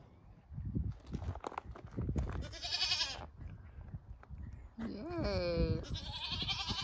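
Several goats bleat in short wavering calls, a couple of them loud and close, with light shuffling and hoof movement between them.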